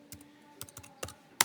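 A few quick keystrokes on a computer keyboard while Python code is typed, four or five sharp, close clicks spaced irregularly over a quiet background.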